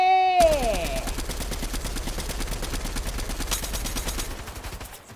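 Rapid automatic gunfire from weapons in Fortnite, a steady stream of evenly spaced close shots running for several seconds, with a brief game tone at the start.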